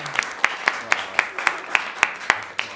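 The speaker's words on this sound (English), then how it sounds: "So y'all hear them clap?" Game show studio audience clapping in a sparse, slightly ragged rhythm of about ten distinct claps over a few seconds, close and fairly loud, with no talk over it.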